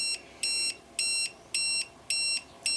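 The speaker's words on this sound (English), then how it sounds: "that beeping." A battery voltage checker clipped onto an Enviromower 18650 lithium pack with a dead cell group beeps sharply at low voltage, five to six evenly spaced bursts, each about a quarter second long, close and alone without talk.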